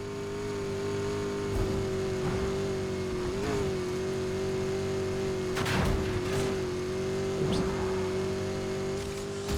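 A racing car engine drones at a steady high pitch in the Need for Speed Heat video game, a sustained even whine held for several seconds with slight wavers and brief bursts of noise, loud and alone without talk.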